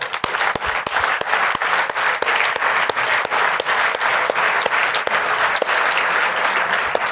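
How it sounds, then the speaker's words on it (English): Loud, steady applause from an awards ceremony audience celebrating the winners, with sharp individual claps standing out from the dense clapping throughout. "let's have a final round of applause for all our winners"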